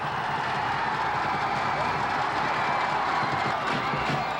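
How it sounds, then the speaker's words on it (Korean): Crowd at a professional baseball game cheering and applauding players after a double, a dense, steady roar of many voices and claps at a distance. "선수들에겐 관중과 동료들의 뜨거운 환호가 쏟아진다"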